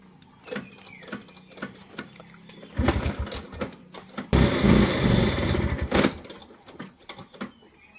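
A vintage Chetak scooter is kicked and cranked, with clanking and uneven sputtering bursts before its two-stroke engine catches and runs roughly for a few seconds, then dies back to mechanical clatter, close by.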